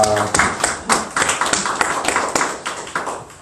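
Rhythmic clapping from a church congregation, a series of sharp hand claps in a fairly steady beat, close and moderately loud, with some voices mixed in.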